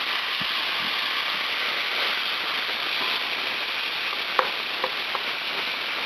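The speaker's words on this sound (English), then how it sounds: "Go ahead and dump my peppers in and let them start caramelizing." Peppers frying in a hot pan, a steady, dense sizzle close by with a few faint clicks near the end and no talk.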